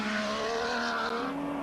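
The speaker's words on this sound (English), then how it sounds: "Jab of the brakes." V12 Jaguar race car at Mount Panorama in 1985, engine note dropping steadily as it brakes hard, a single close, sustained tonal whine easing down over a second or two.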